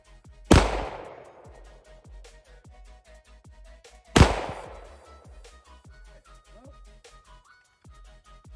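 Two loud shots from a Tisas PX-5.7 pistol firing 5.7 cartridges, about four seconds apart, each a sharp crack with a ringing decay, with light background noise between.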